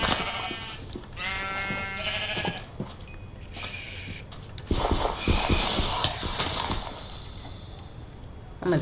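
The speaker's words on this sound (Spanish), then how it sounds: "Ovejas." Sheep in a video game bleating repeatedly, several wavering cries over a busy game soundscape with clicks and mechanical effects, loud and close.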